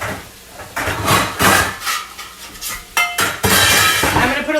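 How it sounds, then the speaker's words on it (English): A cookware lid, likely a Saladmaster pan lid, is picked up in a kitchen, giving several clattery metallic knocks and clinks of pots and utensils, close and fairly loud, with no talking. "I'm going to grab a lid."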